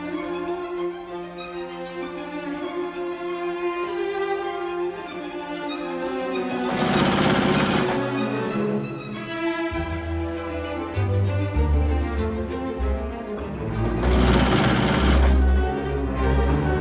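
A sewing machine stitches sew-and-flip quilt leaf units, running in a steady whirring hum with speed changes and two louder bursts, close and alone without speech.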